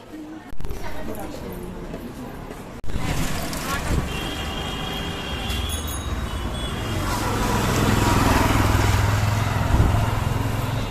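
Busy street traffic heard while crossing a road: a steady wash of car, motorcycle and bus engines passing close by, with a horn-like tone and a sharp knock, swelling louder toward the end. People talk throughout.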